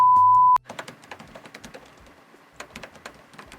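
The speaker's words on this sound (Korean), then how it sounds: "타자 치는 소리가 찹찹찹찹 들리긴 하죠" Fingers type on a Lenovo Yoga 7 15ITL 2-in-1 laptop keyboard in crisp, fast, clicky taps, close and steady, after a brief tone at the start.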